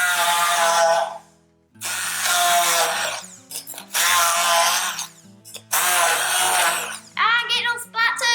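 Blender pureeing dessert ingredients for an Eton Mess, whirring loudly in four long bursts separated by brief pauses, close up with no talk.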